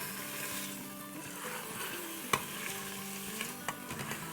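Bite-size chicken breast pieces fry on sauté mode in an Instant Pot at medium-high, giving a continuous sizzle under a faint steady hum, with a sharp utensil knock midway and a few lighter taps toward the end.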